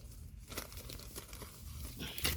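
Plastic shrink-wrap peeled and torn off vinyl LP records, quiet close crinkling and tearing that runs steadily with a slightly sharper rip near the end.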